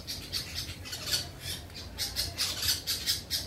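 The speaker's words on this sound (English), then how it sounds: "There's birds and there's dogs, and there's probably neighbors talking too sometimes" Birds chirp and squawk outdoors in a residential neighborhood, a dense, lively run of short repeated calls at moderate distance with no talking.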